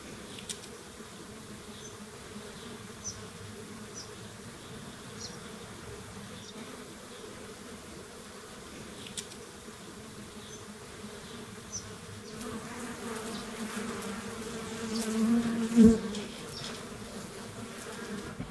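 Bees buzz steadily around an open bush beehive being worked on, a continuous low drone that swells louder near the end with a few close passes.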